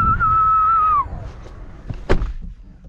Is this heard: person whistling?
yes